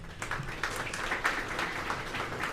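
Attendees at the inauguration of a Mauritius Post parcel facility applaud in support of the minister, a moderate, even round of clapping from a gathered crowd with no speech over it.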